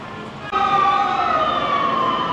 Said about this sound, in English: The fire engines.